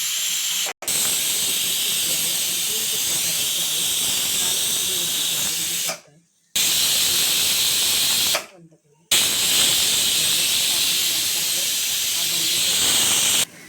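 Loud, continuous hiss of steam from a pressure cooker whistle during dal khichdi cooking, blowing steadily with two short breaks where it cuts out before resuming.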